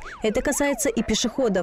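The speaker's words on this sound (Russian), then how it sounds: "Спецсигналы включены, а это значит, что машина с пожарными выехала на место происшествия." A fire engine's emergency siren wails with rising and falling sweeps under a steady voice speaking over it, the siren fairly loud and continuous throughout the short stretch.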